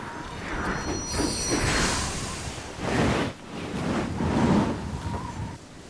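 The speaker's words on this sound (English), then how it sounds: "Then the wind blew the kite another way." A gust of wind whooshes and swells in a Thomas & Friends cartoon scene, carrying a kite away, with a broad rushing sound that rises and falls over several seconds.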